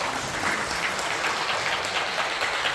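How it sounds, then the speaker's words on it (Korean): Congregation applauding during a Sunday church service, steady dense clapping filling the room with no pauses, close and even in loudness throughout. "하나님께 박수로 영광을 드릴까요?"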